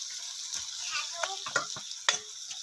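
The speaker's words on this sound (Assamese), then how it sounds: "মাছটো দি অলপ লৰাই দিছোঁ, এনেকৈ ফ্ৰাই কৰি থোৱাই আছে বাৰু" Fish frying in a pan with spices, with a steady hot sizzle and several sharp scraping stirs of a utensil against the pan, recorded close up.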